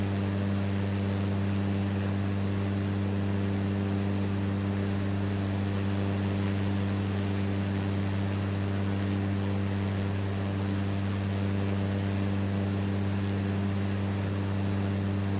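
Airplane in Microsoft Flight Simulator 2024 cruising over Jamaica, a constant loud engine drone with strong steady low tones and broadband wind noise, unbroken for the whole stretch.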